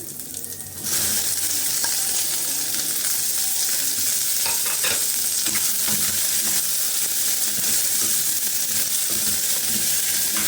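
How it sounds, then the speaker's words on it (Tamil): Cut okra hits a hot pan and sets off loud, dense frying that holds steady and close, with faint stirring clicks scattered through it while okra thuvaiyal is being made. "இப்போ கட் பண்ணி வச்சுருக்க வெண்டைக்காயும் போட்டுடலாம்"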